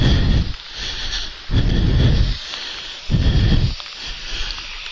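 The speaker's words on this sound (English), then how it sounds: "not in this kind of rain" Heavy hurricane rain pours down steadily while deep rumbles of thunder roll in three long, loud swells, close and booming.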